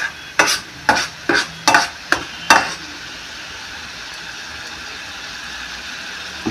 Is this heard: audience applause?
no